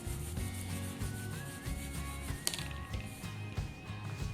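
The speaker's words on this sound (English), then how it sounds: "You just have to rub them in between your palms like this." Roasted peanuts rubbed between bare palms over a kitchen towel give a dry, rhythmic rustling and crackling of papery skins, repeated short strokes close by and fairly quiet, with no talking.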